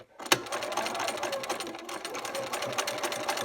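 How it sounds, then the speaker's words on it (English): Sewing machine stitching a quilt block for a window-pattern quilt, a steady close motor whir with rapid needle chatter running the whole time after a brief sharp start, and no talking over it. "I'm just going to kind of sew towards the edge there"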